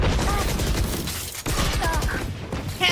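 Rapid gunfire bursts from a Valorant esports match during a push toward the C site, loud and continuous throughout with crackling shots and short gaps.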